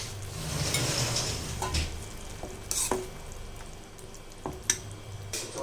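Dissolved roasted gram flour poured into a simmering onion masala in a pan: a soft, steady sizzle and bubbling, with a few light clinks of a utensil, near and gentle.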